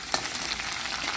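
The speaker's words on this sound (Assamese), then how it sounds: "ইয়াত দিছোঁ খুন্দি লোৱা নহৰু অকণমান। এইখিনি অকণমান ভাজি ল'ম।" Crushed garlic frying in a hot wok gives a brief, dense, close sizzle with rapid crackling pops and a faint stirring scrape, with no talking.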